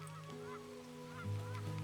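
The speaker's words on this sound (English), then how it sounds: "The geese that are traveling in the V shape." Geese honk repeatedly in the video game Farthest Frontier as a flock flies overhead in a V formation, with steady nasal calls over a low ambient bed and a louder honk near the end.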